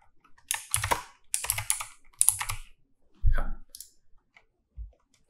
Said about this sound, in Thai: อันนี้ผมต้องพิมพ์ข้อมูล